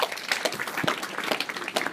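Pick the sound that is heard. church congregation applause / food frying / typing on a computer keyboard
church congregation applause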